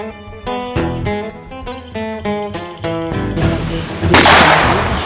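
Sharp cracks of shots fired during a rescue-dog rubble search exercise at Les Ménuires ring out over tonal music, a couple of brief snaps followed later by a louder burst of noise.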